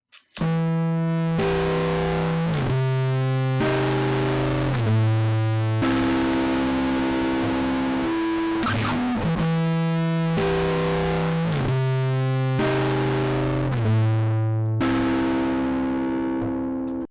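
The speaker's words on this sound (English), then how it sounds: "This will make the distortion sound harsher and more brutal." Harsh, buzzy synth tones distorted by a soft-clipper distortion plug-in set to hard play in sustained notes that change pitch every second or so, loud and continuous with no talking.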